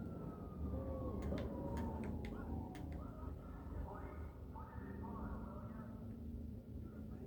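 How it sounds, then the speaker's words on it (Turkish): A police siren in the GTA video game, wailing in rising and falling sweeps over a steady low rumble of game engine and traffic noise, moderately loud and continuous. "GTA'da ilerlediği zaman duyduğumuz ses, polis sesi."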